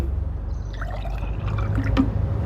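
Water pours steadily and loudly into a glass for a home remedy, a continuous gurgling stream that keeps going for a couple of seconds.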